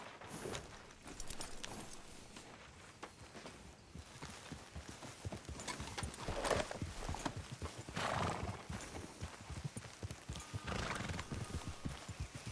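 Horse hooves clip-clop steadily in the Red Dead Redemption 2 video game, a continuous rhythmic walking patter with an occasional whinny, fairly quiet with no talk over it.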